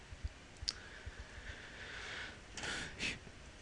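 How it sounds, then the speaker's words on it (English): A computer mouse clicks a few times while selecting a Sanskrit-English dictionary entry on screen; the clicks are short, faint and close, with no talk. "So I'm going to click that."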